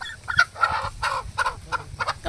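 Kadaknath chickens cluck close by in a village setting, a quick series of short, soft clucks and calls spread over a couple of seconds with no talk.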